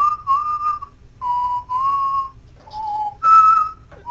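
A person whistles a series of clear, loud sustained notes, each held briefly with short pauses between, shifting pitch slightly from phrase to phrase, heard alone and close.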